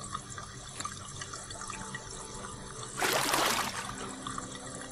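Water drains in the Dark Parables 10 puzzle game: a faint trickle runs under a quiet background, then a brief, louder rushing gush takes over for about a second before fading.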